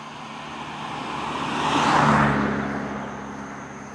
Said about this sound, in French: Dommage qu'il y ait autant de voitures